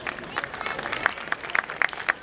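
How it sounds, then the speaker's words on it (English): Sparse, quiet clapping from an audience at a school annual function, a few scattered claps popping out irregularly over a thin murmur of room noise. "Let's give them a big round of applause."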